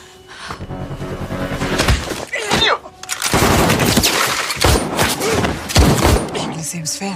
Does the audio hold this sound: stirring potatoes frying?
no